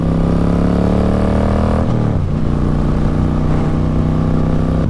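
A Harley-Davidson Road King engine roars loud and close while riding, its pitch dropping sharply through a downshift before settling into a steady, rough throb.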